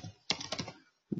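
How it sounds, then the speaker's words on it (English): A few quick computer keyboard keystrokes, two short clusters of clicks close up and crisp, separated by a brief silence, with no talk. "And then I'm going to type in"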